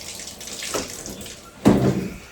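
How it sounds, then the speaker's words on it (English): A bathtub sprayer turns on during cleaning, first a soft hiss, then a louder burst of running water spraying close by that keeps going to the end, with no voices. "what I'm going to do is turn the sprayer on"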